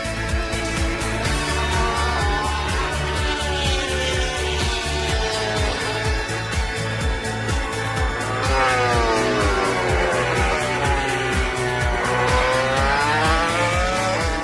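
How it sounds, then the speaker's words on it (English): Racing motorcycles scream through a race at high revs, a loud, continuous engine roar with rising and falling pitch sweeps as the bikes accelerate and shift, with no talking. "One of the most exciting motorcycle races I've ever been privileged to watch."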